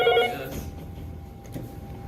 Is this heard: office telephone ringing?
yes